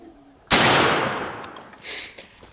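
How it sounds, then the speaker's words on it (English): Single loud shotgun blast fired with a Carlson Longbeard XR choke outdoors at a 50-yard target, a sharp crack followed by a long fading rumble and a faint echo. "There's a shot here at 50 yards."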